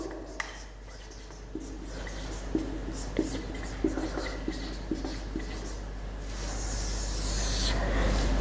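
A marker or pen scratches across a board in short, separate strokes, faint and close, while a low background hum swells toward the end.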